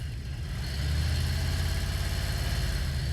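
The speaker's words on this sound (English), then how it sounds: "So you start up the bike, put it in gear." A motorcycle engine idles in gear with the throttle held up around 2,000 RPM, a steady low rumble that firms up after the first second and holds close and even, with no talking.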